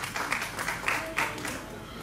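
Audience applause in a hall for a music composer, a moderate spread of clapping hands with a few louder bursts, fairly distant and fading slightly toward the end.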